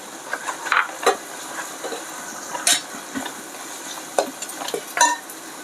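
Coconut paste being fried and stirred in a pan for Telugu-style mutton curry, with soft sizzling under intermittent scraping and clinking strokes of a spoon against the pan, close by and without talk.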